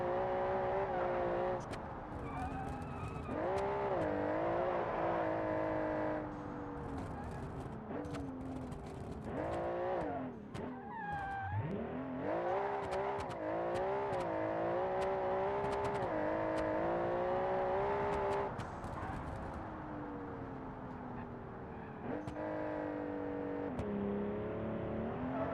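Turbocharged car engine in BeamNG revving hard and repeatedly, its pitch rising and falling through long sweeps, with a brief dip and rev-up near the middle and a sustained loud drone throughout.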